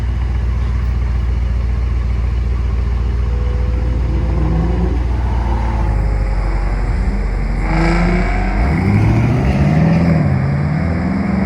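A red BMW M2 drives past, its engine a loud, close rumble that climbs in pitch as it accelerates, then shifts and keeps pulling near the end, with no talking.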